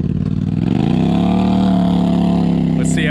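Stock Can-Am Outlander 850 ATV with aftermarket exhaust and snorkel ploughing through deep mud, its engine droning loud and steady as it revs up and holds under load, with a voice talking over it.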